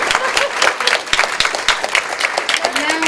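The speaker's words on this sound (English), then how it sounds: "A big applause for her" An audience at a diplomatic tribute event gives a loud round of dense applause with many hands clapping together, while voices can be heard speaking over the clapping.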